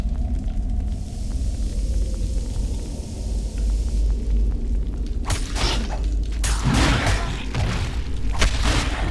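Clay jars smashing in the Baldur's Gate: Dark Alliance video game, a low rumbling bed with a run of loud crashing breaks and thuds in the second half, several impacts in quick succession.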